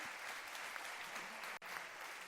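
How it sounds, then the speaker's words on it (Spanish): Audience at a closing session of an archaeological heritage and energy transition conference claps steadily for the panel speakers, a dense sustained round of applause that dips briefly near the end. "quería pediros un fuerte aplauso para los ponentes por darnos su tiempo"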